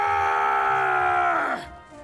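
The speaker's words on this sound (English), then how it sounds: "That scream, was that Gull?" A drawn-out, strained groan-like scream from Gull, a character in the video game Monster Hunter Stories 3, sounds close and loud, its pitch sliding down before cutting off abruptly.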